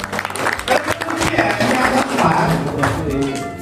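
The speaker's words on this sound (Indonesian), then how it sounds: "Ya, tepuk tangan Bapak Ibu." Indoor audience of a seminar claps together in a sustained, dense burst of applause lasting a few seconds, fairly loud and even throughout, with some voices mixed in.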